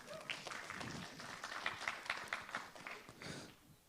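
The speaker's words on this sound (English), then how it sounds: "Round of applause for April." Faint, distant applause from a small audience, a patter of scattered hand claps lasting a few seconds before trailing off.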